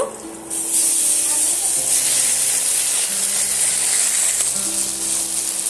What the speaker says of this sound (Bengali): আগে থেকে যে আলুটা গ্রেট করে রেখেছি সেটা আমি এর মধ্যে দিয়ে দেব